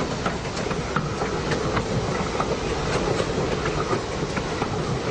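Train rolling along a railroad, with a loud, continuous rumble and rapid, regular clickety-clack of wheels over rail joints throughout, no voices.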